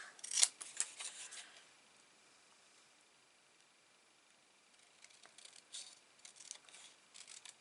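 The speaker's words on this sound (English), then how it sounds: "Just fussy cut your globe bottom out now." Scissors fussy cutting around a paper shape for a card, quiet snipping in short bursts at the start, a pause, then more close, faint snips and paper rustle.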